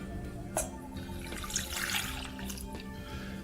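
Water splashes steadily into a container, a continuous running pour with faint clinks, close by and without talk.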